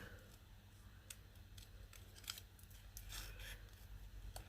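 Scissors fussy cutting paper for handmade card making, quiet close snips spread unevenly through the moment, faint and alone with no talk.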